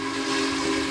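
Steam whistle sound effect, a single loud sustained shrill tone with steady harmonics, close and unbroken through the whole brief burst.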